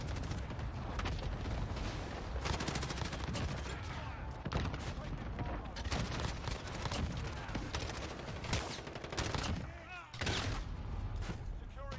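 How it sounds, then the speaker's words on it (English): Gunfire in the shooter game Modern Warfare, with a dense, continuous stream of loud overlapping shots and blasts and a brief lull near the end, while a voice talks over the action. "Fire shotgun, eh?"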